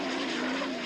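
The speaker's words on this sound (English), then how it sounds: "That turbocharged, fuel-injected Allison engine." Turbocharged, fuel-injected Allison engine of an unlimited racing hydroplane, a steady loud drone with a strong low tone held evenly throughout, no talk.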